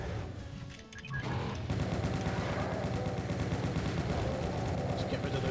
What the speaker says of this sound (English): Oh, the chain gunner again.